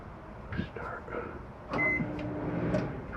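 A microwave oven in a 2017 Catalina 283RKS RV starts up partway through with a short beep and a steady running hum, after some quiet shuffling and muffled sounds.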